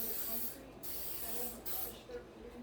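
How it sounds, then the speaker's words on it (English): Cooking spray hisses onto a pan in a home kitchen while a New Mexican Lenten meal is prepared, with a few broad bursts of spray over low kitchen background noise. "just spray my pan. I always spray it."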